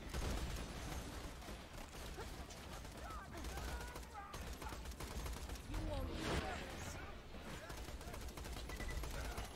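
Rapid SMG fire in Borderlands 2 during True Vault Hunter Mode combat, sustained bursts of automatic shots filling the whole stretch with a player talking over it.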